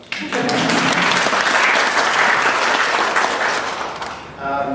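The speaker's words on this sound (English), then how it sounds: "Yes, you can applaud" An audience at a university event marking 40 years of UW–IUB cooperation breaks into sustained applause for a welcomed professor, dense steady clapping that swells quickly and fades near the end as a voice starts.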